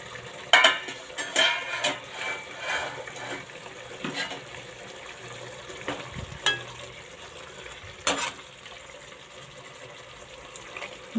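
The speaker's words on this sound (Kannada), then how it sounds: "5 ನಿಮಿಷ ಹೈ ಫ್ಲೇಮಲ್ಲಿ ಮೂಲಂಗಿ ಎಲ್ಲ ನೀಟಾಗಿ ಬೇಯಬೇಕು" Radish gravy cooks over high flame in a pan, a soft bubbling simmer broken by sharp clinks and scrapes of a spoon stirring against the metal, with no talking.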